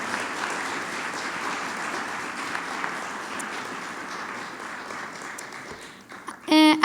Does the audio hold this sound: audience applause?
yes